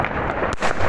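Fireworks set off outdoors on New Year's Eve give a brief burst of dense, noisy crackling, broken by one sharp bang midway, loud and nearby, with no talking.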